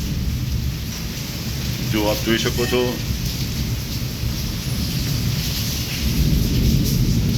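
Pouring rain and thunder in Wankaner, a constant heavy rain hiss with low rumble throughout, while someone speaks briefly partway through.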